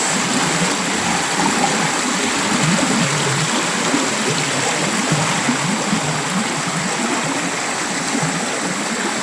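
Rushing water roars steadily and fairly loud throughout, a continuous broadband wash like a fast stream or river close by.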